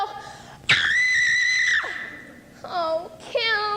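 High-pitched screaming by girls in a 1996 West Allegheny High School stage production of Bye Bye Birdie: one long sustained shriek followed by two shorter wavering squeals, loud and close.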